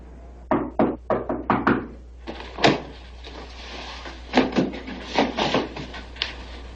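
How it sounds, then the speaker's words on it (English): Knuckles rap on a wooden door in several quick bursts of three to five sharp knocks, near and crisp, with brief pauses between groups. "Why'd you knock?"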